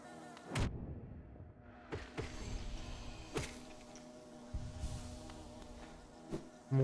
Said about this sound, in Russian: Мухи сраные.